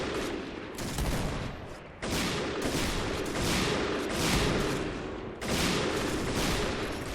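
Video-game gunfire crackles in dense, loud automatic bursts, separated by brief pauses, filling the space with rapid overlapping shots.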